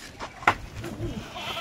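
Goats at a farm sale bleat in a short, close burst, with a sharp cry standing out amid murmuring people and rustling movement.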